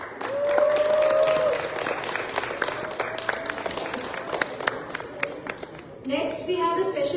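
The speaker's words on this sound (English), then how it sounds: "Let's give him a big round of applause" Audience applause at an ABAT Dhamma Chakra Pravartan Din community celebration: a dense crackle of hand claps runs throughout, with a voice and tonal sounds over it.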